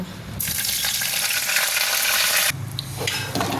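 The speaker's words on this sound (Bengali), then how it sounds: "আর এখানে তেল গরম হয়ে গিয়েছে, এর মধ্যে একটু সর্ষে দেব, আর একটু তেজপাতা দেব।" Mustard seeds and a bay leaf hit hot oil in a pan, setting off a loud, bright sizzle that holds for about two seconds. It then drops back to a quieter crackle.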